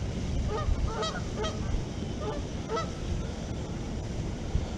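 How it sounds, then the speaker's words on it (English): Ducks and geese honk and quack repeatedly at an urban pond on a morning, the calls carrying at mid distance over a steady wash of outdoor background noise. "A lot of ducks and geese out here making noise this morning."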